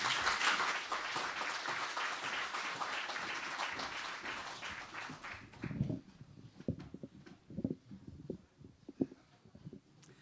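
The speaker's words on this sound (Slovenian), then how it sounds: "En aplavz" An audience at a Slovenian Democratic Party regional gathering applauds a member of the European Parliament as she is called to the stage; dense clapping for about five seconds, then thinning to a few scattered, louder individual claps.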